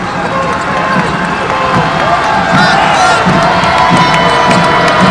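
Small but rowdy college basketball crowd cheering and shouting loudly throughout, with whoops and a courtside commentator talking over the din.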